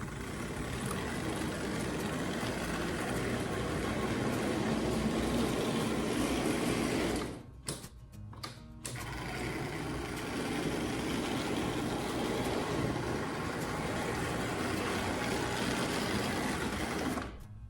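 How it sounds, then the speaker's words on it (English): An old MPC model steam engine from a toy train runs with a steady, busy mechanical whir that cuts out briefly midway and then resumes at a constant pace, close and alone. "It's about as smooth as I would expect an old MPC steam engine to run."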